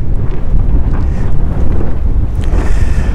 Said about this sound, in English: Kind of windy, but that's what we like for sailing.